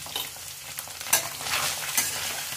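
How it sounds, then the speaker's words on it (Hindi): Spices with red chilli sizzle and crackle in a hot pan for a paneer curry while a utensil scrapes and stirs in short, irregular strokes, close up with no talking. "अब इसे अच्छे से भून लेंगे।"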